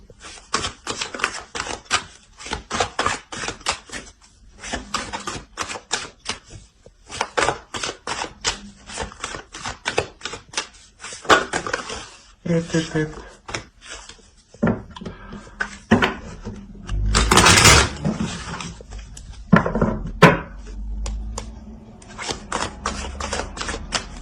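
Tarot cards are drawn and laid out on a table in a long series of crisp, rapid clicks and snaps, like card shuffling, followed by heavier knocks and handling thuds, close and fairly loud, with no talking.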